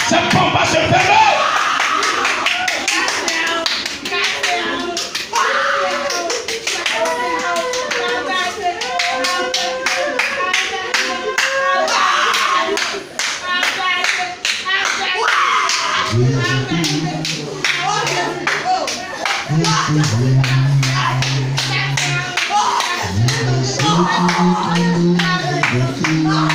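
A church congregation claps and cheers at length, dense applause with shouts continuing throughout, while a voice speaks and exclaims over it in the later part.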